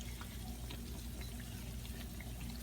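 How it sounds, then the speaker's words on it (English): Tap water running steadily over a hand being washed at a kitchen sink during banana cue cooking, a constant close splashing hiss with small bursts, no talking. "I wash my hand"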